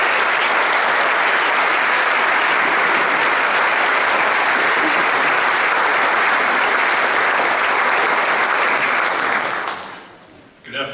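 A ceremony audience gives a warm welcoming applause for a speaker, loud sustained clapping from a large crowd that holds steady for about ten seconds, then quickly fades out.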